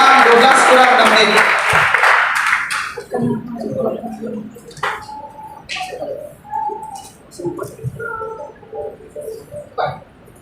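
A church congregation at a prayer and worship gathering in a Jakarta hotel breaks into loud applause for a few seconds, which then fades as a voice carries on speaking over the quiet room.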